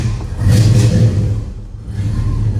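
The exhaust of a restored 1968 Chevrolet C10 truck with a 327 V8 and brand new exhaust rumbles loudly and steadily, swelling briefly, then easing and rising again, heard close.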